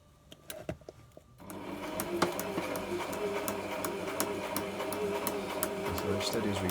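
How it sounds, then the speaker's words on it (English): Sewing machine stitching a homemade gear bag, a few clicks and then a continuous rapid mechanical rattle that runs steadily to the end, with a voice heard alongside. "we'll start stitching, shall we?"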